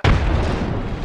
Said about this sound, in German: Granate, ja.